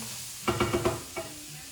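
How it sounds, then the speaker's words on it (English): Mushrooms dropped into a hot frying pan, a burst of four quick sizzling clatters followed by one more, then a soft steady sizzle. "Okay, I'm gonna put the mushrooms in."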